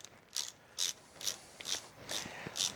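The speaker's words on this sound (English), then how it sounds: "So I'm going to take this screw off." A socket wrench ratchets a screw off a Nissan Leaf battery pack, six evenly spaced crisp clicking strokes close up in a quiet garage.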